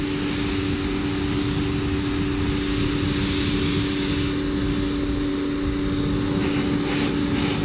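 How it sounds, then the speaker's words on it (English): An electric pressure washer, gentler than a gasoline unit, sprays a steady rinse over a Hawk 250 motorcycle, giving a continuous loud hiss with a constant motor hum beneath it throughout, and no talking. "And the good thing about this pressure washer is that it's not that powerful like a regular gasoline pressure washer"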